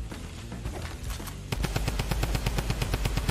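A drum gun fires in a video game, a rapid automatic burst of loud, evenly spaced shots that grows denser and punchier partway through, with no talking.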